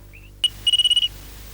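A telephone ringtone on a TV drama set: a short electronic trill of about seven quick, even pulses, with a click just before it, in an otherwise quiet room.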